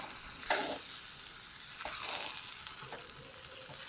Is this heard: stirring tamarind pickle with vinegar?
yes